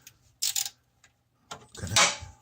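A 10 millimeter tool turns the crankshaft pulley bolt on an Infiniti VK45DE V8 engine, giving a few short metallic clicks and ratcheting bursts with quiet gaps between them, close by.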